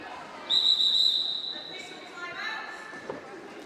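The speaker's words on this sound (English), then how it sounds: "we got the whistle blown" A referee's whistle shrills sharply during a roller derby bout, a strong sustained blast followed by a slightly softer second toot, with faint crowd chatter and commentary around it.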